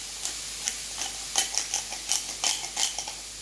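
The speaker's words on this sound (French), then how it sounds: "Je vais battre les œufs, je vais mettre mon sel tout de suite." Eggs are beaten in a bowl with salt, a whisk or fork tapping and clinking against the sides in quick irregular strokes, close and fairly loud with no talking.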